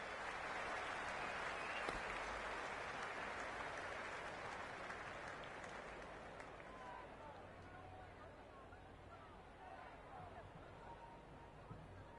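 Crowd applause and cheering from the stands in the cricket video game Cricket 26, a dense roar that starts loud and slowly fades while a broad crowd wash continues.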